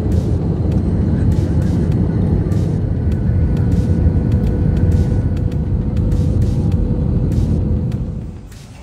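Inside an airliner cabin on a flight to Da Nang during stormy weather, a loud steady low engine drone fills the space, easing off slightly at the very end.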